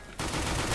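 Tec-9 pistol fire in the CS:GO shooter, a dense burst of shots starting abruptly and continuing loud and steady to the end, with no talk over it.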